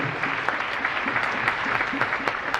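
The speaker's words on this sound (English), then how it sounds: "A round of applause" Applause from an audience at an IIT Delhi lecture, a steady, fairly loud burst of many hands clapping throughout.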